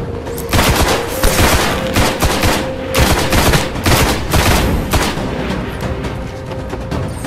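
Rapid bursts of video game gunfire from Destiny, loud and close, firing in dense volleys with short gaps throughout, with no talking over it.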